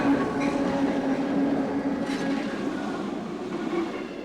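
A train rolls toward a station platform, a steady rumbling pulse of wheels and rail noise that stays loud and even throughout, with faint clatter and no voices.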